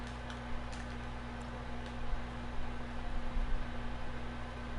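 Rain sound effect in the Dreams game editor: a steady, even hiss of rainfall with scattered faint ticks and patters on top, continuous and without voices.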